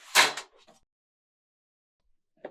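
Dual slide doors on a stainless steel cocktail station glide open with a short metallic swish, followed by a couple of faint clicks and a brief soft knock near the end, with silence between.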